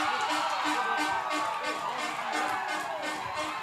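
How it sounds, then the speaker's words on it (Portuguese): Guarani football supporters at the municipal stadium Oswaldo Rocha roar in a steady, dense crowd din with rhythmic chanting, heard from a distance beneath a commentator's voice. "Ouça só o barulho da torcida do Guarani."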